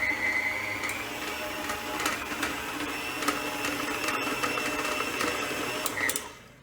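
An electric mixer whirs steadily through thick chocolate brownie batter in a home kitchen, a continuous mechanical hum with faint rattling that runs without talk and stops abruptly at the end.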